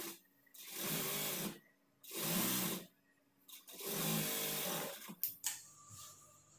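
A sewing machine stitches blouse cloth for a princess cut blouse in three bursts of about a second and a half each, separated by pauses, then a few sharp clicks.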